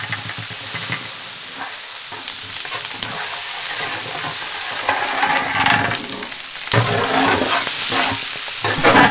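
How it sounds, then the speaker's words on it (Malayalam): Three kilos of green chillies frying in hot oil with garam masala in a huge pot for a 100 kg chicken dum biryani, giving a loud, continuous close sizzle and hiss that swells louder partway through. "ഇനി ഇതിലേക്ക് 3 കിലോ പച്ചമുളക് ചേർത്ത് കൊടുക്കാം"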